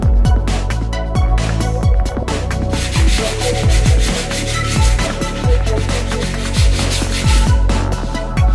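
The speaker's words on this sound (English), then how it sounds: "I'll sand it with some 80 grit sandpaper" 80 grit sandpaper scraping over body filler on a dented motorcycle tank in loud, steady back-and-forth strokes, each pass a rough gritty rasp, continuous and close with no talking.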